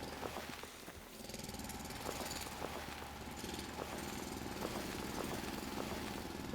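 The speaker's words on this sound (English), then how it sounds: "Just the constant sound of a drill." A drill runs continuously in the video game Foundry, a steady mechanical drone with a faint whine on top and regular, evenly spaced knocks pulsing through it, close and unbroken.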